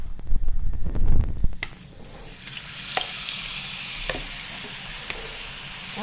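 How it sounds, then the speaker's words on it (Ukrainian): Meat sizzles and crackles steadily in a hot pan, with louder stirring clatter and bursts at the start, then a softer continuous hiss. "Маленький кусочок ми перевірили, вже шкварчить, додаємо все інше."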